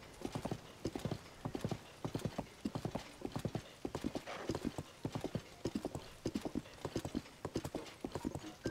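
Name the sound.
horse hooves clip-clopping in Tears of the Kingdom video game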